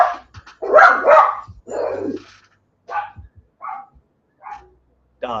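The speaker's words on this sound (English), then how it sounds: "Barking at nonsense." A dog barks nearby in a series of sharp, loud barks and higher yips, spaced irregularly with brief silences between them.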